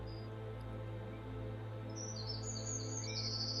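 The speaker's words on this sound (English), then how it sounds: "the sounds of the bird, the movement of the bird." A small bird sings in a forest, with a few thin high chirps and short trills standing out faintly above a steady low hum.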